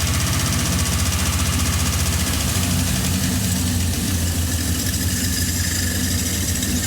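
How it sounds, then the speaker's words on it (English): A COE ramp truck engine idles close by with a steady, fast ticking from a noisy lifter running over the low, even rumble. "definite lifter tick"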